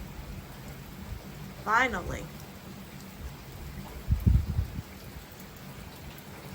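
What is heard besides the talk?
rain falling at night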